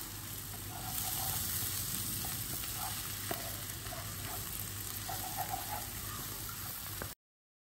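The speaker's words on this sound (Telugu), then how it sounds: "దీన్ని మళ్ళీ ఒక్కసారి ఇలా తిప్పేసుకొని సర్వింగ్ బౌల్లోకి తీసేసుకోవటమే." Tamarind-leaf curry, finished with coriander powder, sizzles and fries steadily in a pan as it is stirred, a close, continuous crackle with faint scraping and no talk.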